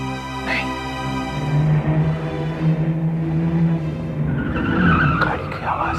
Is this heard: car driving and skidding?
yes